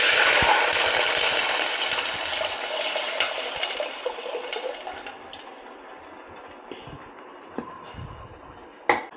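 Measured water is poured into rice in a pot for coconut rice, a bright continuous splashing rush that starts strong and gradually thins out, followed by a few small clinks and taps near the end.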